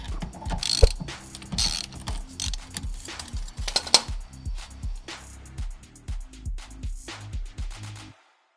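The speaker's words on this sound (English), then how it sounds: "so I'm busting out the impact" Bursts of an impact wrench hammering at close range, loosening caked-on bolts on the lower intercooler pipe of a Mitsubishi Evo 8 during stock turbo removal; a quick rhythmic series of short rattling pulses with brief gaps, no talk.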